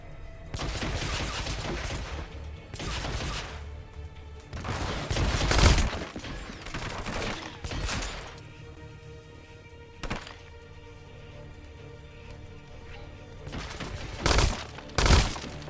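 Gunfire from a pistol duel in Hitman: Absolution, with loud bursts of shots and hard impacts in clusters around the start, middle and end, separated by quieter game ambience and no talking.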